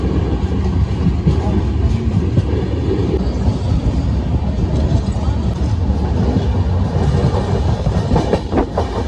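Danapur Jansadharan Express passenger train rolling on rails, a steady loud rumble with clattering wheel noise from close by, continuing throughout under a talking voice.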